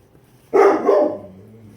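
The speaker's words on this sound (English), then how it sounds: "Sorry about my dog." A single loud, close dog bark rings out once in a quiet indoor room, then trails off.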